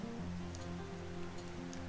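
Rain falling on a cold, mossy rainforest campground by the Lyre River, a faint, steady patter with no voices.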